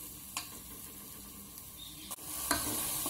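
Spice masala with turmeric and salt frying in a pan gives a steady, moderately quiet sizzle, broken by a few scraping stirs and clinks.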